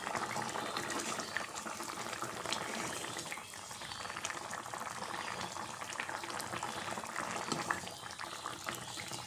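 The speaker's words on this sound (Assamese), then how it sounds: "এয়া মোৰ আঞ্জা উতলি আছে বঢ়িয়া কৰি।" A fish curry with tomato and no potato simmers in a pot on a gas stove, giving a steady, fairly quiet bubbling and hiss that stays even throughout with no voices.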